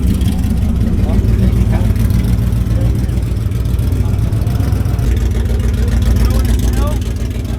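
A turbocharged car revs hard at a car meet, its loud, rough, tractor-like engine roaring steadily throughout while people talk and shout nearby.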